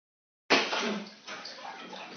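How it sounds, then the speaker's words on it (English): Hot water pours into a container, a sudden broadband splashing rush that starts abruptly and continues steadily at close range with slight fluctuations. "I'm going to have to put some hot water in here"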